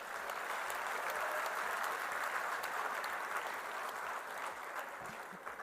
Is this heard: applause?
yes